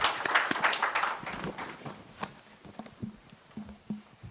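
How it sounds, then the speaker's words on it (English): Audience at a United Nations South-South cooperation event applauds panelists, a burst of clapping that fades quickly into scattered individual claps and a few faint sounds. "A round of applause for our panelists."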